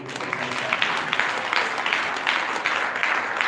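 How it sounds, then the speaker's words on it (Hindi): A church congregation claps in praise during a Hindi-language worship service, a steady patter of many hands at moderate level with no voices on top. "ताली बजाओ परमेश्वर की प्रशंसा।"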